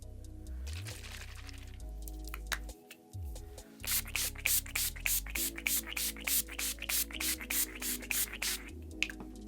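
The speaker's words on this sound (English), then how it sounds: "This is the Rose Water setting spray." A quick series of sharp spritzes from a rose water setting spray bottle, a fast, steady run of pumps close to the microphone after some quieter handling noise.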